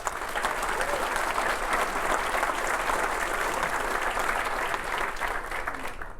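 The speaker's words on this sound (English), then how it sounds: "Please join me in honoring our city employees with a round of applause" A large audience at a State of the City address gives sustained, even applause in honor of city employees. The clapping is loud and steady throughout and begins to fade only at the very end.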